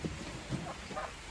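Steady rain drumming on a barn with goats inside, a dense even hiss with a few soft thuds, fairly close and continuous with no talk.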